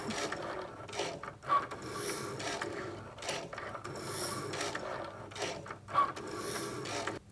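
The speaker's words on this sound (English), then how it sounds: "It's gonna cut 7 lines of 2 lines each. So there's gonna be 14 cuts." A Cricut cutting machine cuts knife blade calibration lines, a close mechanical whirring and rasping with the carriage moving back and forth in repeated passes, punctuated by brief sharp clicks and short pauses between strokes.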